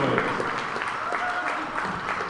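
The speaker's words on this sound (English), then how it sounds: "Give him a round of applause." Crowd applause fills a gym during a seventh-grade tournament championship basketball game, a dense, continuous wash of clapping and cheering at moderate loudness, with voices mixed in.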